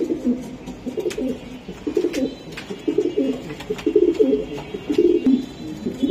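Racing pigeons coo in repeated low, throaty phrases close by, with faint sharp clicks and rustles between the calls and no voices.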